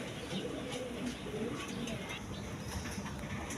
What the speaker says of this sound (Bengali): এখানে এক প্যার ডেনিশ কবুতর আছে দেখেন ব্ল্যাক ডেনিশ